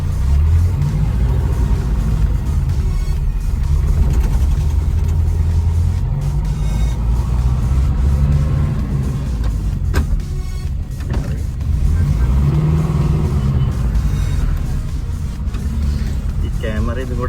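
An old Ambassador car with a column-mounted gear shift pulls away in first gear, its low engine rumble and road noise steady throughout, with a person talking over it.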